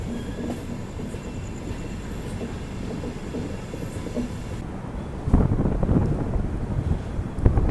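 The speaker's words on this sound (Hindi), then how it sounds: "यहाँ पे वेस्ट कोस्ट एक्सप्रेस का अराइवल हो रहा है कोयम्बतूर रेलवे स्टेशन पर, कोयम्बतूर जंक्शन पर" West Coast Superfast Express train arriving at Coimbatore Junction, a steady rumble of railcars with wind buffeting the microphone, growing louder and heavier in the last few seconds with a brief squeal of wheels.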